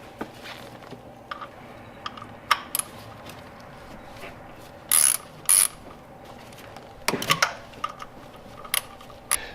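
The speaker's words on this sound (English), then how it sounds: "we're going to break these 3 bolts loose that are on this big pulley over here" Socket ratchet clicking in short bursts while loosening bolts on the big accessory pulley of a Porsche 911 996 Turbo, close and fairly quiet, with brief louder clacks of tools between pauses.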